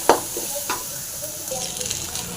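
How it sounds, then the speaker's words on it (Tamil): Raw banana pieces fry with salt in a pan, giving a steady, loud sizzle with occasional scraping stirs throughout and no voices. "நல்லா ஃப்ரை பண்ணிக்கலாம்."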